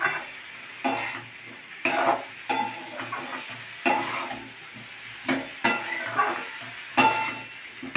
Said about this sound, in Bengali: ডালটা দিয়ে মশলার সঙ্গে একটু নাড়াচাড়া করে নিচ্ছি।